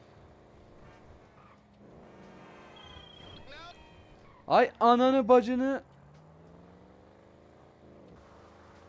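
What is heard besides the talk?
car engine revving in a video game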